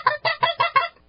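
Goose calling imitating a flock of geese on the ground: five rapid, evenly spaced nasal honks, loud and close, with no talking.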